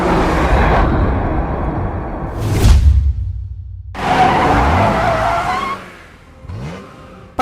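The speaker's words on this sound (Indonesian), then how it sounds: "Andrew memerintahkan Belle untuk segera mengerem mobilnya" In a film car chase scene, a car brakes hard with loud tire squeal and skidding, engine roar before and after, dropping to a quieter rumble near the end.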